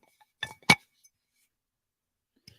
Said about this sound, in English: Wow, glass bottle.